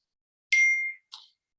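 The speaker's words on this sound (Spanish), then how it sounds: "apago el celular, disculpen por el ruido." A mobile phone notification chime sounds once in a quiet classroom: a bright bell-like ding that rings and fades, followed by a shorter second tone, with no talking.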